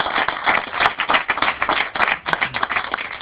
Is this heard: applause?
yes